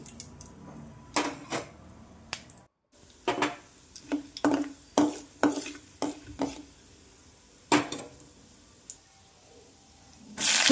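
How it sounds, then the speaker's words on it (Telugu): Cumin, mustard seeds, chana dal and urad dal fry in hot oil for a tempering, with a spoon clattering against the pan in a series of sharp knocks over a low, steady sizzle. "జీలకర్ర ఆవాలు శనగపప్పు మినపప్పు వేసుకొని ఫ్రై చేసుకోవాలి"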